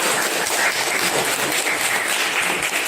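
A crowd applauds steadily and fairly loudly, dense clapping filling the whole moment without a break.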